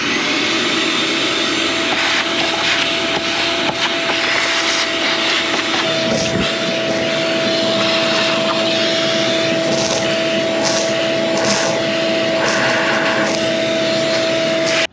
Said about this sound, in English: Let's go ahead and get all of that mouse nest vacuumed off of there.